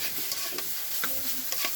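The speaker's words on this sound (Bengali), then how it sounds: "এদিকে আমার ভাজা হয়ে গেছে" Chopped banana flower (thor) fries in a karahi with a steady close sizzle and a few quick scrapes of a spatula turning it, no voices.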